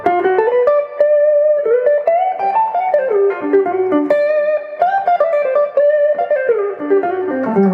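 A lawsuit-era copy electric guitar on its neck pickup, playing a warm, round melodic line of single notes and chords, steady and close with no talking.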